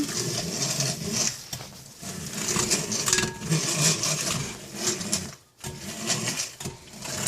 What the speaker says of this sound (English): I guess I'm not so proficient at using one of these hand mixers either.